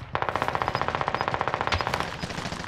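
Fast automatic gunfire in Call of Duty: Warzone on Fortune's Keep rattles in an even, rapid burst of about two dozen shots, loud and close, with a heavier thump near the end.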